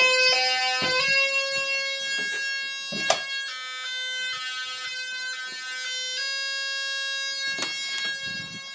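A Menvier TS900+ alarm system tone sounds loudly through a bassy loudspeaker, stepping between steady pitches in a repeating pattern, with a few thumps and clicks in between.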